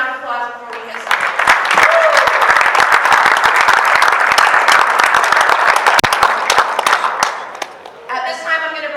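Loud, sustained clapping from a crowd, a full round of applause, with a voice speaking briefly before and after.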